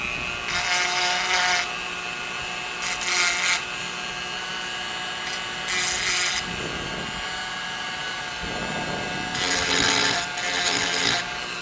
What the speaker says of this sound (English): if there's any burrs, spots I can smooth up in there, I'm going to do that.